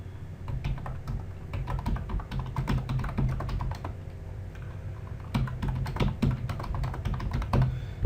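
Rapid, close clicking of keys on a computer keyboard while HTML markup is typed, in uneven bursts with brief pauses, no talking.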